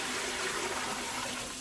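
Five litres of water for a mini mash brew in a Coopers Pale Ale kit NEIPA batch pour in a dense, steady gush that rushes loud and close from start to end without any voice.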